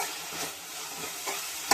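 Onions fry in a pan with rock salt, making a constant close hiss of sizzling oil with faint stirring scrapes and no talking.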